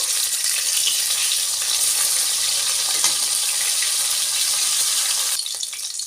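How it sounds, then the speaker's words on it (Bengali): Rohu fish frying in hot mustard oil, a loud, steady, dense sizzle that holds throughout and eases slightly at the end. "মাছ দিয়ে দেব মাছটা একটু ভালো করে লাল লাল করে ভেজে নেবো"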